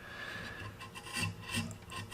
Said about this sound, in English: I'm going to chamfer basically all the way around this thing.